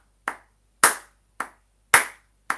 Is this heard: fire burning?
no